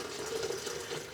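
Rhubarb lemonade with lemon slices being poured into a pitcher, a steady liquid trickle and splash lasting about a second at moderate, close volume.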